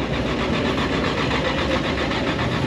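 A Chevrolet Camaro engine running on a hot day, a loud, steady close-up rumble with a low pulsing rhythm and no voices.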